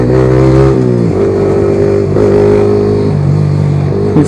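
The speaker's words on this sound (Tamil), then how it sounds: "இசுக்குதுங்க, வண்டி இசுக்குது." A Yamaha R15 motorcycle engine running low on petrol, its steady close drone breaking and shifting pitch as it sputters and struggles, with no talk over it.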